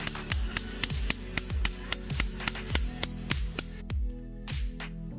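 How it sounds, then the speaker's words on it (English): Repeated sharp metallic mallet strikes driving a bolt and plate implant into bone during hip fracture surgery, about a dozen evenly paced blows, each ringing briefly before the next, close and fairly loud. "we insert a combined bolt and plate directly over the pin and into this opening with a mallet"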